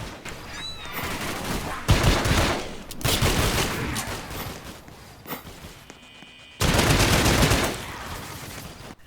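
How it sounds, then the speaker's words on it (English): Gunfire from an M1 Thompson in the Roblox game Michael's Zombies comes in rapid automatic bursts, with several loud sprays separated by brief pauses and footsteps in between. "Now our farming weapon of choice on this map is the M1 Thompson"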